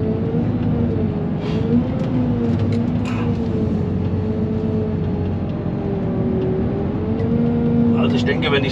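A vehicle is driving with Hydro Drive engaged. Its engine gives a steady, loud drone with a gently wavering pitch, close by, and brief extra noises toward the end.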